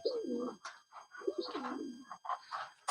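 A pigeon cooing at close range, a few soft throaty rolling coos with pauses between them, alongside a couple of faint higher chirps.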